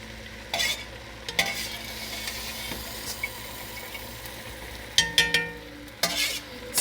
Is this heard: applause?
no